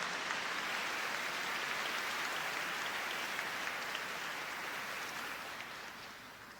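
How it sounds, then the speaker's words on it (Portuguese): A church congregation claps for its young people and university students, a dense sustained wash of applause that carries steadily throughout and eases slightly near the end. "Peço a todos uma salva de palmas para os nossos jovens e universitários."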